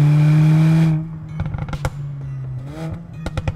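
A 2017 Mercedes CLA45 AMG with a 2-liter turbocharged inline-four engine making 375 horsepower revs loud and close: a high, steady engine tone that suddenly drops off, then clattering and brief rising throttle blips with sharp clicks.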